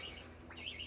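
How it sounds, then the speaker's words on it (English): Baby quaker parrots chirping at feeding time: a short, faint high chirp with a rising-falling tone over soft background noise. "Let's feed these baby birds."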